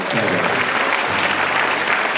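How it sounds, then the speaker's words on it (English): A crowd at a spring school band and orchestra concert breaks into loud, sustained applause, thick and continuous, with faint cheering mixed into the clapping. "Give them a round of applause"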